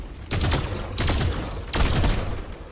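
Three bursts of heavy video game gunfire, each a dense broadband volley lasting about half a second, over a steady noisy background.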